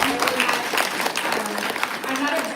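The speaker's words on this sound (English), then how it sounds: "give her a round of applause for educating" Applause from an audience at a public awareness talk, a dense, steady patter of many hands clapping throughout, fairly close and loud.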